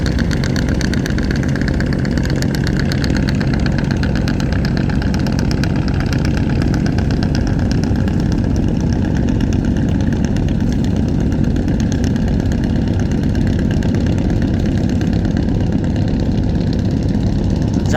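Two passenger launches race near Lalmohan, their heavy engines throbbing in a loud, unbroken drone throughout, with a dense low chugging that never lets up.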